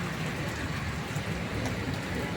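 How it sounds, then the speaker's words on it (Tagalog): Heavy rain pours down in a dense, steady hiss of drops on surfaces, loud and close without a break, with faint traffic beneath it. "Eh, ang lakas ng ulan, nakita niyo naman, di ba?"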